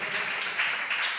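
A church congregation clapping together, a dense, even wash of palms that holds steady for the whole brief moment with no pauses.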